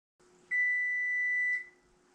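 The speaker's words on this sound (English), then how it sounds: "now we're going to set the timer for 13 minutes" Kitchen oven timer being set for a batch of snickerdoodle cookies, one clear, loud electronic beep lasting about a second, close by over a faint hum, with no other sound.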